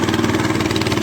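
A fishing boat motor runs close by, out fishing with nets in strong wind and sea spray, a loud, steady mid-pitched engine drone with a fast pulsing rhythm and nothing else over it.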